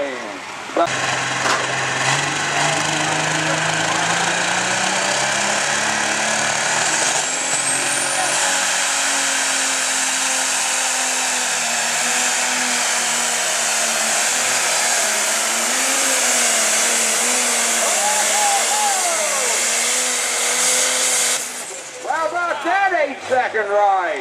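A light pro stock pulling tractor, a soy biodiesel Allis 7030 at an NTPA tractor pull at a county fair, screams loud and sustained with a high engine whine under a running announcer's voice, then cuts off near the end.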